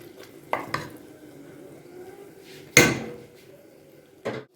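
Pot lid set back on a pan of salted chicken curry, a few close metallic clanks and clatters with one sharp, louder clang in the middle and a final knock.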